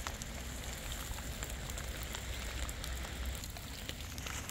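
Rain falls steadily on a vegetable garden planted with flowers, a dense, even hiss of drops pattering on leaves and soil with no voices.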